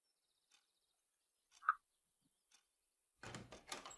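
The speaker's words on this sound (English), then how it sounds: "I was awoken by the noise of a door opening." A door in the Everlasting Summer video game opens with a few faint, sparse knocks and a short squeak, then a louder scraping, rattling burst as it swings, all fairly quiet and isolated.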